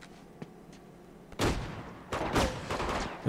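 Enemy gunfire in Uncharted 2 comes in two loud bursts of rapid shots after a quieter stretch, with faint distant pops before them.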